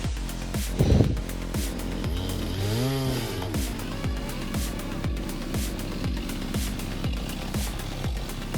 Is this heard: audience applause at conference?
no